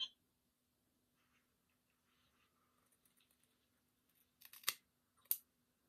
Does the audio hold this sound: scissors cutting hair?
yes